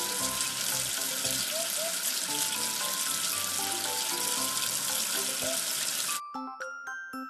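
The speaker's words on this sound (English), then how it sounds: "Wash away the soap with water." Running water from a tap rinses soap off a toy number figure, a steady close splash that fills most of the clip before cutting off, followed by a few faint drips and clinks.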